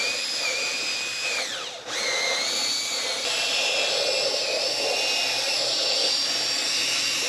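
A power drill whirs steadily with a rotary brush scrubbing a car floor mat, its pitch dipping briefly as it slows and then revving back up to a sustained, loud drone.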